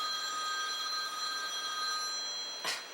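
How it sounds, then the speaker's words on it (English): A telephone rings indoors with a steady, high electronic bell tone that holds at moderate loudness throughout, followed by a brief soft bump near the end. "Well, my phone's ringing."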